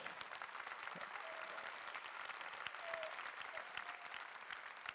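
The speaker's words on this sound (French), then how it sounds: "On vous applaudit évidemment." A congress audience at a round table on cooperatives applauds in steady, fairly quiet clapping that continues evenly for a few seconds.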